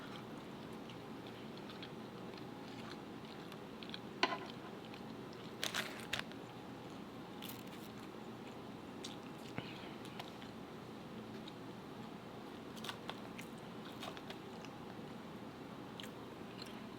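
Ricotta lasagna being chewed and eaten up close, mostly quiet with a few soft, scattered bites and crunches spread across the stretch and no talking.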